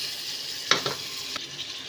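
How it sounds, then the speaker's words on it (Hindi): Tomatoes fry with meat for karela gosht in a pan, a steady sizzle with a couple of brief stirring scrapes, close and moderately loud. "इसको भी थोड़ा सा भून लेंगे"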